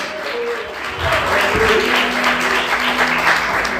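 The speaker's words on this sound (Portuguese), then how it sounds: "Você pode aplaudir o Senhor" A church congregation applauds during a worship service, a steady wash of clapping that swells after the first second and continues, with a low sustained tone and some voices mixed in.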